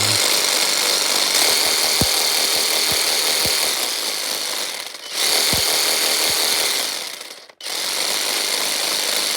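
A Bauer 20V cordless variable-speed jigsaw runs in a loud, continuous high whine that drops briefly twice as the trigger eases off and then ramps back up, close by with no talking.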